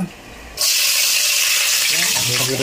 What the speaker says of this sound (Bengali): তো আমি প্রথমে তেজপাতা দিয়ে দিলাম, ঘিরে দিচ্ছি, তারপরে দিব গরম মশলাটা